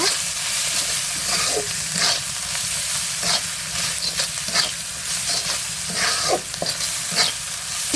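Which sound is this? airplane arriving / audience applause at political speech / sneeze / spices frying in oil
spices frying in oil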